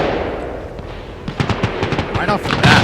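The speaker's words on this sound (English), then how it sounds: "Returning fire." Gunfire in the Stalker Reforged game, with several sharp shots and a short rattling burst near the end, heard faintly over a rumbling background.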